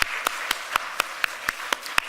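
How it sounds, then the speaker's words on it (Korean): A church congregation claps together in a steady, even beat, about four sharp claps per second, moderately loud and without talk. "큰 박수로 환영해 드리겠습니다"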